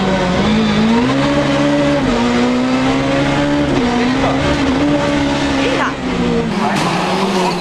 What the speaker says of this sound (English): trying hard in the little 106, which is experiencing gear selection problems